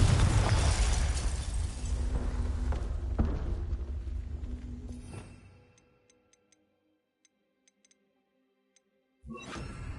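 Confringo spell explosion in Hogwarts Legacy, a loud blast that rumbles and decays over several seconds, followed by near silence with faint ticks and then a short sharp burst at the end.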